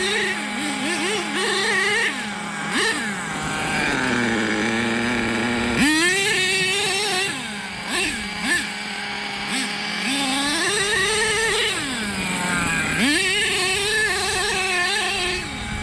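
The small nitro engine of an HPI Savage RC truck revs again and again, its high-pitched whine climbing and dropping in long sweeps. It sounds loud and close, with no voices.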